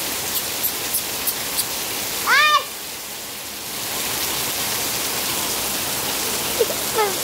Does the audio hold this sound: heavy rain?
yes